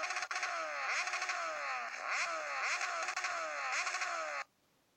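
Kawasaki Z1000 motorcycle with a modified exhaust in a racing video game, engine revving loud and steady with repeated rising-and-falling sweeps for about four and a half seconds, then cutting off abruptly to near silence.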